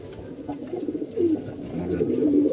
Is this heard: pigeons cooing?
yes